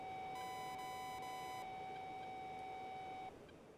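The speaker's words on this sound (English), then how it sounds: "Let's turn that beep off for a second" A cockpit warning tone in the DCS World flight simulator sounds as a continuous steady electronic beep, joined briefly by a higher layered tone before cutting off after about three seconds, loud and alone.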